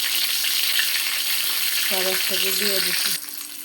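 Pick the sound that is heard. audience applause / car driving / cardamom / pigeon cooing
cardamom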